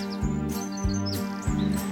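Birds chirp at dawn in a Postman Pat animated theme song: quick, bright, high chirps repeat every half second or so over sustained musical tones and a bouncy rhythm.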